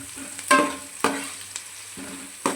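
Green chilies fry in a pan for cabbage manchurian, a steady close sizzle broken by four distinct scraping stirs of a spatula at roughly half-second intervals.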